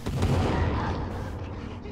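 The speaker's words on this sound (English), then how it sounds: "Dynamite? That's what I got." Dynamite blast in a forest survival video game, a loud broadband boom with a rumbling, crackling tail that slowly fades over about two seconds.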